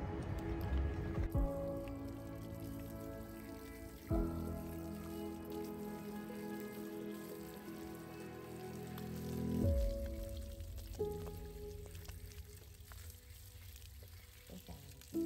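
Plant roots are rinsed in water to clear out rotten parts, giving a steady, dense splashing and sloshing that holds for the whole stretch with small shifts in intensity, close up and with no speech.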